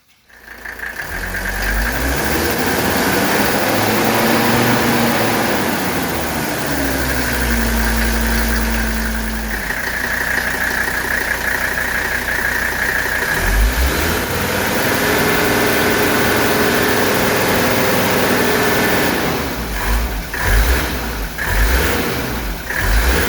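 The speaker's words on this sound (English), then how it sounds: "you crank the car up. You let it get up to temperature and idle" 1983 Mercedes 300CD engine idling while warming up, a steady close rumble with a couple of rises in revs and slight vibration, heard alone without talk.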